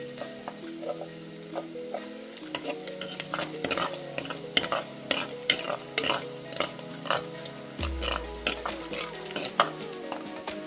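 Onion and tomato fry in a pan with a steady sizzle, broken by repeated scraping and clinking strokes of a stirring spoon, close and uneven in rhythm, with no talking.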